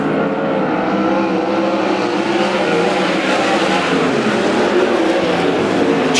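Sprint cars race around the dirt oval at Central Arizona Speedway during heat races, a dense, steady roar of several engines filling the whole stretch without a break.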